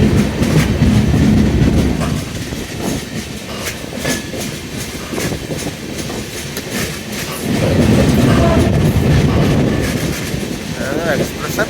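A passenger express train rolls along on the Guntur line, a steady loud rumble of wheels and carriage noise with rhythmic clatter, swelling near the end, while people talk faintly over it.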